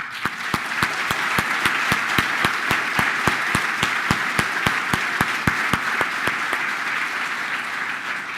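Steady audience applause at a large conference hall lecture, dense and continuous with sharp individual claps standing out in a regular rhythm, fairly close and sustained for the whole stretch without any talking.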